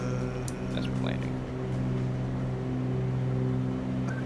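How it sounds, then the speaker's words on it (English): Aircraft engines in a flight simulator game, a steady close droning hum with a constant tone and no variation, heard alone. "Just making the sound of the engines."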